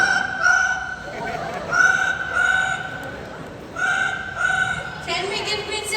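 A parrot at a Singapore bird park show imitates a telephone with repeated ringing electronic trills in short bursts, while a presenter talks in the background.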